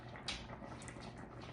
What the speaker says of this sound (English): now that it's boiling, I'm gonna turn it down